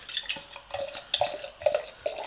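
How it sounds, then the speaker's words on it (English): San Miguel beer poured from a can or bottle into a glass, with fizzing trickles, small clinks and drips in a quick irregular series, close by and fairly clear, no voices. "I'll pour my son a San Miguel first."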